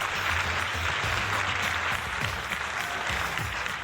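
Steady applause from a crowd, dense and continuous clapping at moderate volume with no voices over it.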